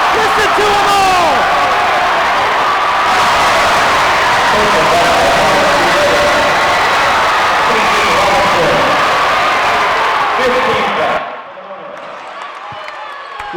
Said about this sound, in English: Listen to this crowd, ladies and gentlemen.